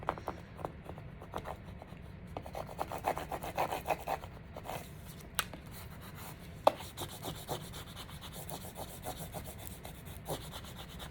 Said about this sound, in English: I was really scraping hard